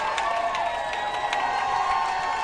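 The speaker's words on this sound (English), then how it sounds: "this Pace crowd is getting loud" A loud, steady crowd roar fills a high school boys' varsity lacrosse game, with shouts and whistles rising from the stands and no break in the noise.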